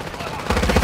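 Burst of gunfire in the Warzone 2.0 DMZ shooter, a short run of loud shots that picks up near the end over continuous game noise, with a voice talking underneath.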